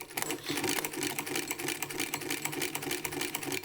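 A Weaver CUB leather sewing machine stitches through leather with a fast, even, loud mechanical clatter that continues without a break.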